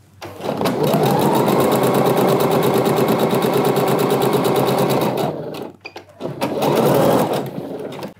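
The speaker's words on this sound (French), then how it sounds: "on va tout simplement passer à la machine à coudre pour coudre à 1 cm du bord au niveau des deux côtés" Sewing machine stitching 1 cm from the fabric edge on a crop-top or blouse: a loud, fast, steady mechanical whir runs for about five seconds, stops briefly, then resumes in a shorter burst.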